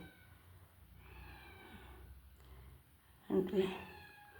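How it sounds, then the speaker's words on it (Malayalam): A cat gives two short, fairly loud meows in quick succession near the end, in a home where fish heads are being set aside for it, after a stretch of quiet background with faint murmuring. "പൂച്ച കരയിലായി"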